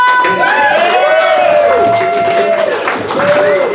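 Steady applause and cheering from a comedy show audience as a comedian comes to the stage, with music playing over it throughout.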